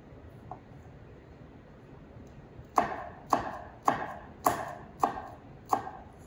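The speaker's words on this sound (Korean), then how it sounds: "자, 썰어서 다져주세요. 마늘 다져주기." Six sharp, evenly spaced knife strikes on a cutting board as garlic is chopped and minced, preparing bellflower root salad (doraji saengchae) for a Korean cooking certification exam; close and crisp after a quiet start.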